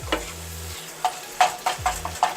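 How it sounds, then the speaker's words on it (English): A spoon scraping and stirring through a pot of queso dip with ground beef, a series of distinct close scrapes in an uneven rhythm, alone without talk. "Give this a good stir."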